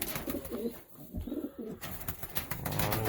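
Racing pigeons coo in low, throaty bursts close by, repeated through a short stretch with some rustling and shuffling in a loft.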